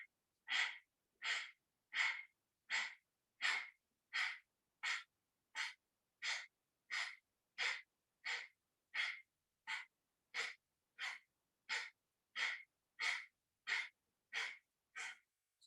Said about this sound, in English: Let's do some Kapalabhati breathing for warm up.